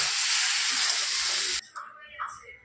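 Vegetables frying in a pan make a loud, even sizzling hiss for over a second, then stop abruptly, followed by faint clinks and a voice speaking.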